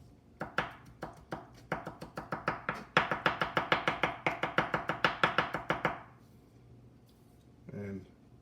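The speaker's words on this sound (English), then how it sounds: "So I'm gonna mince it up a little finer." Knife mincing garlic on a cutting board, a fast run of sharp, close taps that speed up into a steady rapid chopping rhythm for several seconds, then stop, followed by a brief murmur.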